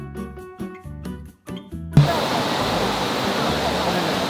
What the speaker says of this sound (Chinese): 来到第一站金月瀑布